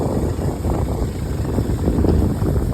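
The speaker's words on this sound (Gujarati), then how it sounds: "ઠંડો ઠંડો પવન આવતો હોય, જો તમે ઝાડવા કેવા હલે" Steady wind buffets the microphone with a constant low rushing roar, gusting slightly throughout without pause, as cool wind sways trees on a farm.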